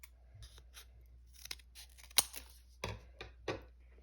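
Scissors snip through folded paper in a few sharp, close cuts spaced unevenly, with quiet pauses between them.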